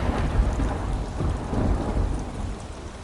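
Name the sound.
heavy rain with thunder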